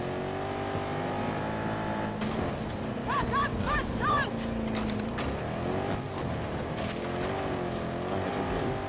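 A car in the video game Battlefield 2042 drives and revs, its engine note rising and falling over several seconds amid game battle noise.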